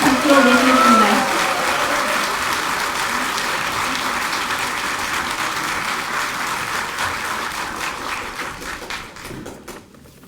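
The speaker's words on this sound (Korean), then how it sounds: "박수로 모시겠습니다." A crowd at a political party presidential primary event applauds a candidate with loud, sustained clapping that starts under a brief voice and slowly tapers off into scattered claps near the end.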